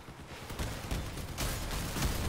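A deployed turret in the vehicle combat game Crossout fires a rapid burst of shots, dense crackling bangs over a rumbling battle din, louder in the second half.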